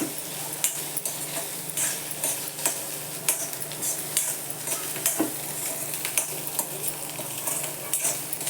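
Boiled, salted corn kernels being stir-fried in a pan, with a steady low sizzle and quick repeated scrapes and ticks of a spoon, close and quiet.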